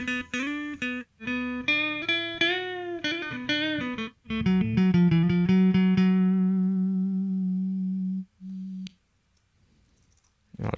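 Electric guitar through the first cabinet model of Softube Amp in Reason 8: a run of quick clean-to-driven picked notes, then a sustained ringing note that cuts off into near silence.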